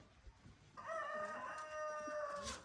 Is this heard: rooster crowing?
yes